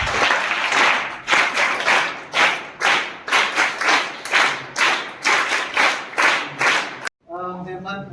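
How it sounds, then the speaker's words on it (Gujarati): An audience at an ashram school gathering claps in three strong, rhythmic rounds of applause to welcome a guest, loud and close, each round rising and falling, before ending abruptly and a voice begins speaking. "આપણે સૌ ત્રણ તાળીઓ ચાલુ રાખીશું"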